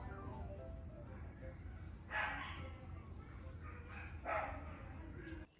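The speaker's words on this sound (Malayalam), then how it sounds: "അടുത്തുള്ള വീട്ടിലെ പട്ടികളൊക്കെ നല്ല ബഹളമാണ്" Neighbouring dogs bark in two separate bursts from a short distance over a steady low hum, with no one speaking.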